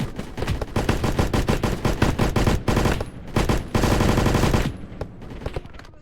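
Rapid automatic gunfire from Blackhawk Rescue Mission 5, a video game, comes as dense, loud, continuous bursts with a couple of brief pauses before it fades near the end.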